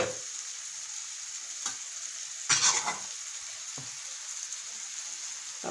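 Liver frying in hot oil in an Egyptian home kitchen, a steady close sizzle with a few louder bursts of crackle and stirring partway through, no talk.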